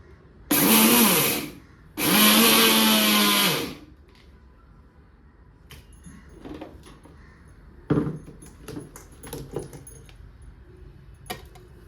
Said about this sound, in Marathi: चल चल चल लाव मिक्सर. आपण वाटून घेऊयात आता.